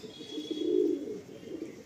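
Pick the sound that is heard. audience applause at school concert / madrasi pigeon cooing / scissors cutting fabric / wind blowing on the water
madrasi pigeon cooing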